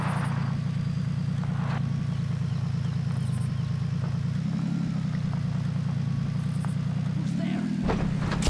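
A car engine idles and hums steadily in Far Cry, a constant low drone with a slight rev partway through and faint game sounds on top.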